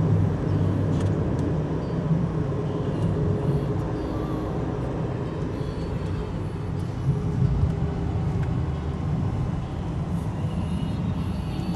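A car passes on a road beside a bike path at Neusiedler See, and its broad, steady road rumble fills the whole stretch with no clear rise or fall.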